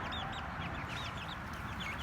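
Five small chicks wander through a planted garden, giving many quick, thin, high cheeps in a busy overlapping stream, faint and fairly distant over soft background noise.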